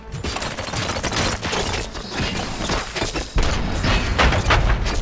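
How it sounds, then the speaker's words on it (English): Gunfire bursts erupt in Robocop: Rogue City, a loud, dense volley of shots and booms layered over game music and ambience, continuing steadily throughout. "Gunshots? What's going on?"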